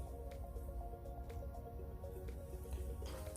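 Soft wet squishing and stirring of filler being mixed into resin for climbing holds, steady and close, with occasional faint clicks and no talking.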